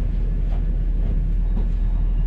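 A local train leaving Edinburgh Waverley station rumbles steadily, heard from inside a carriage as a continuous low, loud hum with faint rhythmic clatter.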